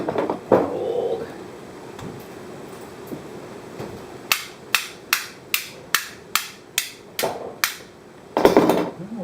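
Hard metal hammer strikes on an old rusty aquarium part, about ten sharp evenly spaced blows in a steady rhythm, close and loud, after some quieter handling noise.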